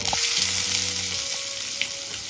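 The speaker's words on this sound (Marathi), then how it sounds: "इथे आपण कांदा छान गोल्डन कलर येईपर्यंत परतून घेणार आहोत" Onion fries in a pan with mustard seeds and cumin, a loud continuous sizzle close by, with a few faint stirring clinks and no speech.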